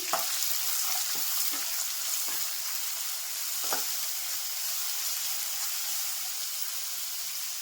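Onion frying in a pan with curry leaves for North Karnataka girmit, a continuous hissing sizzle broken by a few soft stirring knocks, close and steady with no voice.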